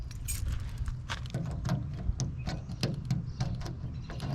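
Keys jangle steadily with scattered bright metallic clinks over a low rumble while someone works on an old truck, loud and close throughout, with no speech.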